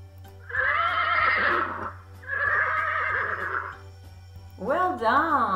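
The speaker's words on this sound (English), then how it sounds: "It is a horse" Three loud, close horse whinnies, each a long wavering neigh, separated by short pauses over a steady low hum.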